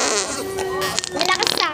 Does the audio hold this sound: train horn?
no